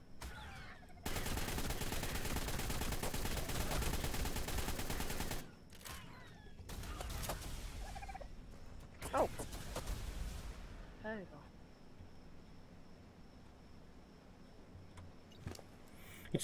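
Sustained rapid gunfire from the video game Ragnarok roars loudly for several seconds, then gives way to scattered shots, bursts and impacts amid lighter game noise, with voices talking during the fight.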